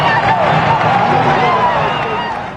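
Orange Bowl football stadium crowd cheering loudly after a ball is thrown through a 30-inch circle from 10 yards, a dense, sustained roar of many voices that tapers off slightly at the end.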